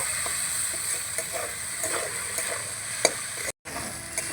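Potato kabab filling with chopped coriander being stirred in a pan, a steady soft sizzle broken by scattered scraping clicks of the spoon and a brief gap near the end.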